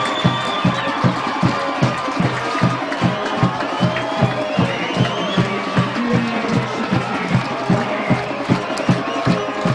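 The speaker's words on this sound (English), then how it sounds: "the crowd is loving it here at Hooper Stadium" Large crowd at Hooper Stadium cheering and roaring through a high school football game, with rhythmic clapping or chanting beats pulsing steadily beneath a dense, loud wash of voices.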